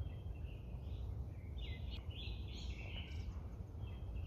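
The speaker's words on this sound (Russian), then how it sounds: "Слышите, как поют птицы?" Small birds sing faintly in a hilly wooded area on Sakhalin, with short high chirps and trills over a steady low outdoor background hiss.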